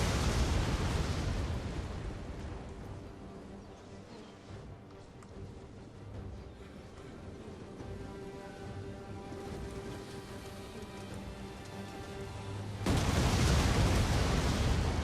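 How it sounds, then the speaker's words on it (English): Explosive artillery shots from a Rome 2 battle pounding a garrison, heavy booming blasts and rumbling crashes that rise loud at the start and end, with a quieter stretch between. "those explosive shots are definitely doing a lot of damage"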